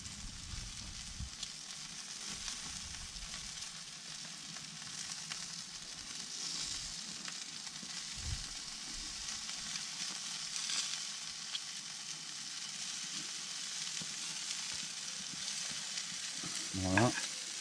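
Skewered wood pigeon sizzles and fries in a pan, a continuous soft hissing crackle with occasional clinks and stirring bumps near the end, fairly faint and without voices.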